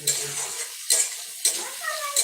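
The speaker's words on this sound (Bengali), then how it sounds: "পেঁয়াজ টমেটো ক্যাপসিকাম একসাথে ভেজে দিয়েছে এরপর এটা হালকা হালকা ভাজে ভেজে নিচ্ছে" Onion, tomato and capsicum frying together in a pan, stirred in bursts: three or four scraping, sizzling strokes about half a second apart over a light background sizzle, fairly close.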